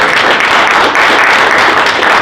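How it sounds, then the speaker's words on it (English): An audience at a company sales meeting gives a steady, loud round of applause for a presenter, continuous clapping with no break. "Give Tiffany a round of applause"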